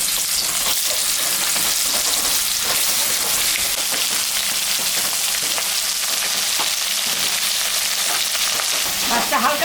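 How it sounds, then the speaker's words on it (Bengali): Hilsa fish seasoned with salt and turmeric frying in hot oil, giving a loud, dense, continuous sizzle and crackle that holds steady close to the pan with no talking. "এখন আমি মাছটা ভাজবো।"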